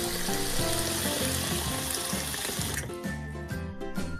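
Water running steadily from a tap or hose, splashing continuously at close range, with a faint musical backing underneath.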